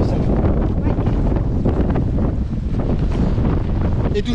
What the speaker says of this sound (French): Et toujours le petit vent.